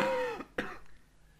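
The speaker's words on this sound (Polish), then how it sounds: "Ach, ten kaszel mnie wykończy." A man's harsh cough heard twice, a short hacking burst followed by a second after a brief pause, fairly close and moderately loud in a quiet room with no talk.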